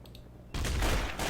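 Gunfire in Trouble in Terrorist Town, a sudden loud burst of shots breaking in after a quiet moment and continuing as a dense, close crackle.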